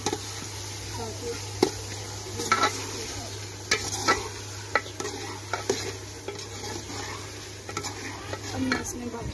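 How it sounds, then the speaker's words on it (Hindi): Ginger and spices frying in a pan for biryani while a spoon stirs them, a steady low sizzle with repeated sharp scrapes and clinks of the spoon against the pan. "इसको थोड़ा सा चलाएंगे चम्मच को इसमें"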